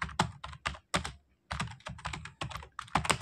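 A computer keyboard is typed on up close in quick, uneven bursts of crisp clicks, with short pauses between words and no speech.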